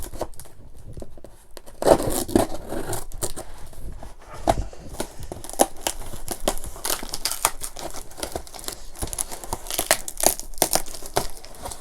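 A blade slicing through the cardboard and plastic packaging of a Canon M50 Mark II camera box, with crinkling, scraping and tearing noises that arrive in irregular close bursts and no voices.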